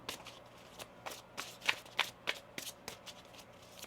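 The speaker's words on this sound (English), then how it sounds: "One more shuffle here." A tarot card deck is shuffled by hand in quick riffling bursts, a series of soft crisp card flutters close up, with no talking.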